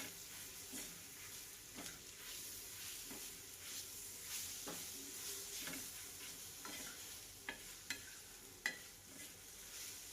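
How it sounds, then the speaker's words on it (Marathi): Ground masala fries with browned onion in a pan for stuffed bitter gourd, a quiet steady sizzle with intermittent stirring scrapes and a few sharper spoon taps near the end. "आता ह्यामध्ये हा जो दळलेला मसाला आहे तो आपण ह्याच्यामध्ये थोडा फ्राय करून घेऊ"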